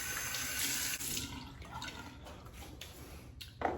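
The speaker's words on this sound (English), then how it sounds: "A final face rinse with warm and then cold water." Tap water runs steadily into a sink during a face rinse after a wet shave, a continuous close splashing flow with small shifts as hands move through the stream.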